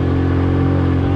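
An older motorcycle engine running steadily while being ridden, a continuous low throbbing hum with no pauses, close and fairly loud, no talking.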